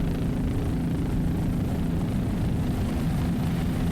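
A Mercury-powered 38-foot cigarette powerboat races in the P3 class off Key West, its engines producing a constant low droning roar without letup, steady and moderately loud.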